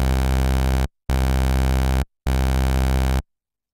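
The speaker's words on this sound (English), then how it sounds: "This will give us a nice rich waveform to start the patch off" A rich, buzzy sawtooth synthesizer bass tone, pitched two octaves down in Sylenth1, plays three sustained notes, each cut off cleanly with short silences between them.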